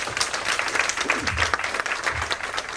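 Audience applause at a silver jubilee event, a short burst of brisk, even clapping from a crowd in a hall, with a little voice sound beneath it.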